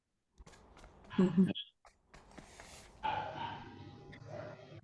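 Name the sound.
dog barking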